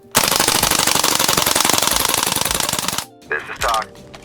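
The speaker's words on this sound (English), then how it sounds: "Would you mind awfully if I emptied the mag? Full auto, baby." A WE MP5A2 gas blowback airsoft rifle fires a long, loud full-auto burst of rapid, evenly spaced shots for about three seconds until the magazine runs dry, followed by a few brief mechanical clacks and handling noises.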